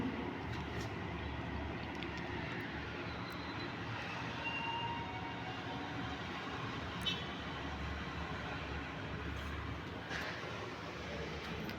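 A train passes somewhere in the Philippines as a steady, far-off rumble and rolling noise that holds evenly for about twelve seconds, faint and unbroken, with no voices over it.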